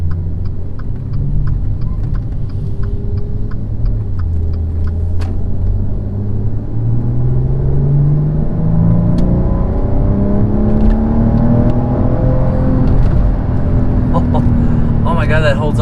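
A 2017 Maserati Quattroporte's engine pulls hard under acceleration, its loud, close exhaust note climbing steadily in pitch through the gears over a continuous rumble.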